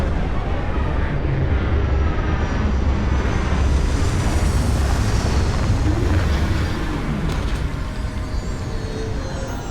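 A spaceship lands in Starfield: a loud, steady roar of engines and thrusters that swells and holds, with faint tonal whines sweeping through, and no voices.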